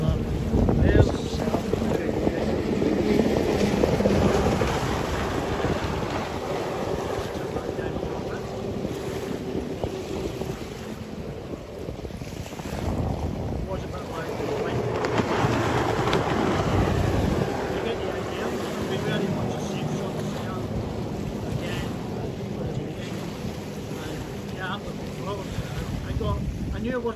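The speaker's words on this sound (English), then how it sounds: "you can hear that wind in the back with that stream that's on at the moment" Wind roars and buffets against a microphone outdoors, close and constant, with heavy low rumble throughout. A person speaks underneath the gusts.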